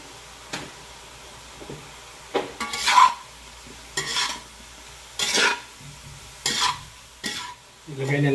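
Shrimp cubes and green chili sizzle in a pan as a spoon stirs them for ginataang labong, with a steady fry under periodic scraping strokes and light clinks, close and without talk.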